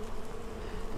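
Honey bees buzz around an opened Flow Hive during a split, a dense, continuous drone of many wings close by and steady in loudness, with no voices.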